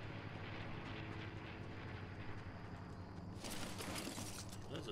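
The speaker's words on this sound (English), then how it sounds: "That's a plane." A steady droning airplane engine hums throughout in the video game Fortnite, low and continuous, with a brighter burst of mechanical noise joining near the end; no talking.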